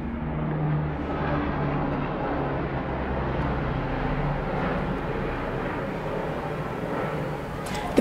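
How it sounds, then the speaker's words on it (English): Airplane passing overhead indoors, a continuous low engine drone that holds steady throughout, fairly loud and unbroken by talk. "the plane had all day to pass, but it's passing the moment I turn on my camera"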